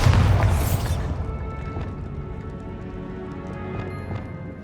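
The Bombardo spell going off in Hogwarts Legacy as a single loud, close blast, its booming roar fading over several seconds into a low rumbling tail.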